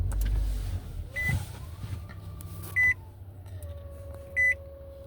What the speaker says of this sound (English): So I'm starting the vehicle